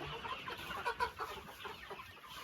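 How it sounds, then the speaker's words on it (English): More than a hundred chicks peeping and cheeping together in a large new coop, a steady dense chorus of overlapping chirps at moderate distance, no speech. "So now Tab's got all the chicks and moved them into the big house."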